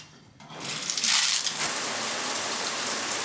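A home shower turning on and running while hair is washed out, a dense hiss of falling water that swells after a quiet start and then pours steadily.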